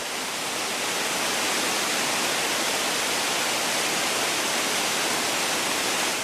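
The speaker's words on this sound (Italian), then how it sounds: "Ed è la maggiore del mondo, come quantità d'acque, la cascata del Niagara." Niagara Falls roars as a dense, unbroken wall of rushing water, loud and steady throughout with no voices or other sounds over it.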